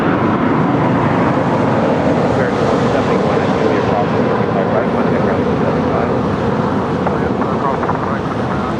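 A Kalitta Air Boeing 747-400 at Los Angeles International Airport gives a steady, loud broadband jet roar that holds constant throughout, with talk running underneath.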